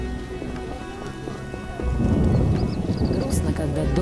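Rainfall and a low rumble of thunder in the fantasy video game The Witcher, set in a merchant quarter, with steady rain hiss swelling louder midway and faint melodic game ambience underneath.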